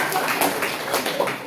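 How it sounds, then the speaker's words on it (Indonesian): Audience applause breaks out at a book-review gathering of students at Darul Madinah modern Islamic boarding school, a steady dense patter of many hands clapping together for a brief moment. "Aplaus dulu."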